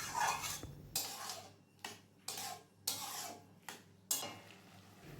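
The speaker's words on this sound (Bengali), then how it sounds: "ভালোভাবে নেড়ে চেড়ে 5 মিনিট মতো আমি এটাকে হতে দেব।" A spoon stirs ash gourd and moong dal curry in a pan, giving a series of short scraping and clinking strokes against the metal at an irregular pace, close and fairly quiet.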